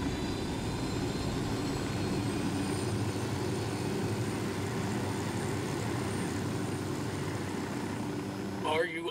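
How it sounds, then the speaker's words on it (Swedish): A helicopter in the video game Holt Chronicles drones steadily with a low rotor and engine rumble, continuous and fairly loud throughout, with a brief scrape near the end. "Särskilda helikoptergruppen står redo för att extrahera."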